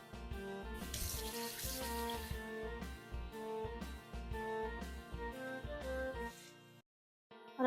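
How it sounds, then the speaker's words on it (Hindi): Water pours from a tap in brief bursts while dal mash cooks, splashing near at hand in a faint, uneven rhythm, with a pause of near-silence just before the end. "हल्का सा पानी लगाते हैं इसे"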